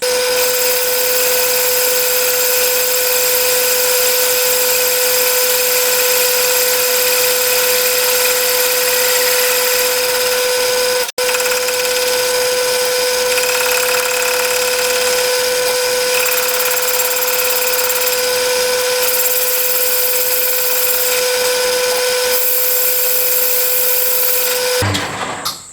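A metal lathe faces and turns a Stuart Turner No. 8 mill engine casting, giving a loud, steady machining whine with strong sustained tones and a constant motor hum, unbroken for the whole stretch and with no voices.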